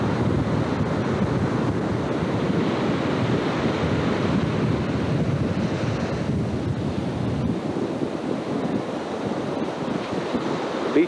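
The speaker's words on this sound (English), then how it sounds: "Beach in the background is Doheny State Beach with Dana Point down there." Ocean surf at Doheny State Beach near Dana Point, a continuous wash of breaking waves mixed with buffeting wind on the microphone, loud and unbroken with no one talking.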